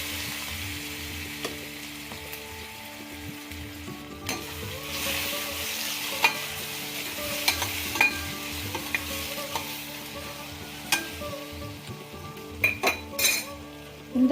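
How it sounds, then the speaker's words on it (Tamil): Cut raw mango pieces frying with curry leaves in a pan, a steady sizzle broken by frequent stirring scrapes and sharp metallic clinks of a utensil against the pan. "கருவேப்பிலை பொரிஞ்சதும் நம்ம கட் பண்ணி வச்சுருக்க மாங்காய் ஆட் பண்ணிப்போம்"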